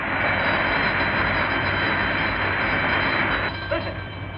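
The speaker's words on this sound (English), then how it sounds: "That's a siren on Blackwell's Island." A steady, loud wail from a siren on Blackwell's Island sounding an alarm, holding continuously as a sustained droning tone before easing slightly near the end.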